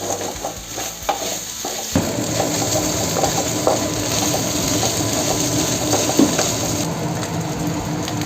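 A beaten egg mixture for egg fry is stirred briskly in a bowl, giving a continuous close swishing and scraping with small clinks, loud and unbroken throughout.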